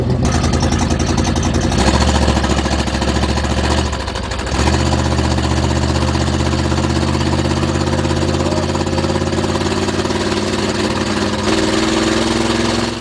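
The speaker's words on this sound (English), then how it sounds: "if you have an ear for engines, you'll know that it's still running rough" Antique motorhome engine running rough: a loud, close, steady idle with uneven sputtering, briefly dipping and stumbling partway through before picking back up, no talking over it.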